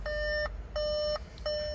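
Three evenly spaced electronic beeps, each a steady clear tone lasting under half a second, chiming from a 2015 Volkswagen Beetle Convertible's warning system with the doors open.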